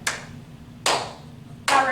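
Three sharp, distinct hand claps spaced evenly in a slow rhythm, close and crisp with ringing decay in a room, no speech between them.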